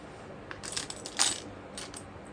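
Small metal zipper-end hardware for a bucket bag is set down on a surface, giving a couple of brief bright clinks and a light rattle, close and alone.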